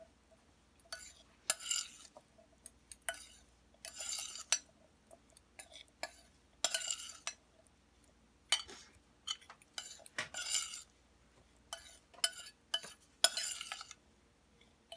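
Chickpeas are stirred in a bowl with a utensil to coat them. Repeated bursts of scraping and clinking come in uneven strokes, close and moderately loud, with brief quiet gaps between them.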